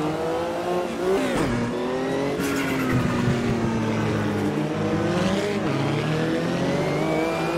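Porsche and BMW sportscars battle in an Automobilista 2 World Sportscar Championship race, engines revving up and down through gear changes with rising and falling whines, loud and continuous, with a brief squeal of tires.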